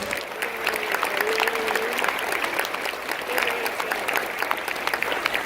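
Audience applause fills a school spring concert at the Lebanon School, steady dense clapping from a crowd throughout, with a few faint voices mixed in.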